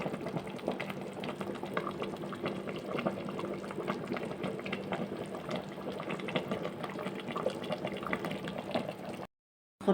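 Okra stew simmers in a pot, giving a steady, close bubbling and hissing that runs evenly without pause before cutting off near the end.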